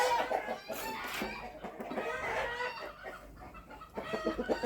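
Hens cluck and chatter close by in a busy, continuous stream, with a few sharper squawks rising above the flock noise.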